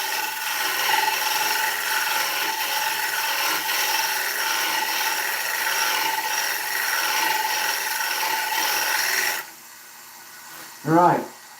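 Turning tool cutting the tenon face of an ash bowl on a wood lathe, a steady close scraping and hissing that stops abruptly near the end, followed by a brief low hum.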